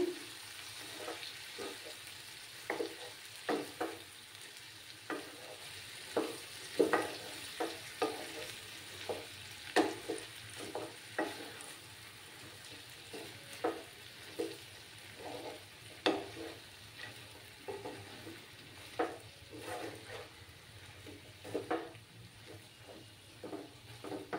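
Cauliflower stems fry and sizzle in a pan over a lowered flame while a spatula stirs them, producing a steady crackle broken by regular scraping strokes, close and fairly loud, with no talking.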